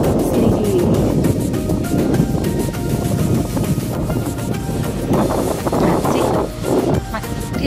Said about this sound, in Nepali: चिसो हावा चलेको छ